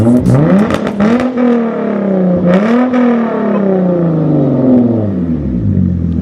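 A loud car exhaust revs repeatedly, the engine note rising and falling in deep surges, close by with a raspy, rumbling tone.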